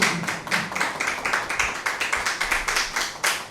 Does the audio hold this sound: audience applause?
yes